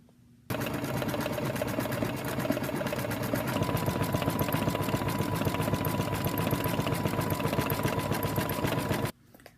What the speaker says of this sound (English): now it is going to go and do the tack down for the band, and then it's going to do the decorative bean stitch inside the band